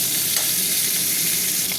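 Cauliflower frying in hot oil, a dense, loud, unbroken sizzle with no voices.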